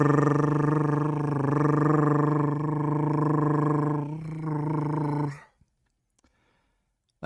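A voice imitates a cat's purr or roar, producing a sustained, rumbling, growly tone for about five seconds before it cuts off into near silence.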